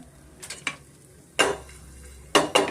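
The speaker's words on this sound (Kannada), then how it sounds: "ಸ್ವಲ್ಪ ಎಣ್ಣೆನಲ್ಲಿ ಫ್ರೈ ಮಾಡ್ಕೋಣ" Cumin and fenugreek seeds frying in oil for a raw mango chutney, with a low steady sizzle broken by a few sharp stirring and scraping clatters near the start and two louder bursts later; no talking.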